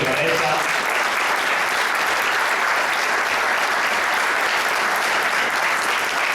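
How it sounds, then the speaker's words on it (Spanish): Loud, sustained applause from a conference audience fills the whole stretch, dense and continuous clapping without letting up. "fuerte aplauso para ella"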